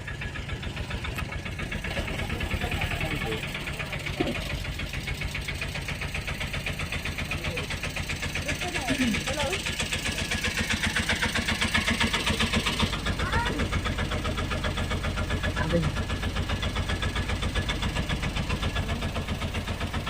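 An auto-rickshaw engine idles and chugs on a muddy road with a close, steady rumble the whole time while people talk over it.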